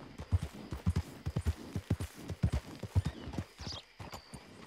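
Horse hooves clip-clop in a steady, even walking rhythm in the game Red Dead Redemption 2, fairly close and moderately loud, with the footfalls slowing and fading near the end.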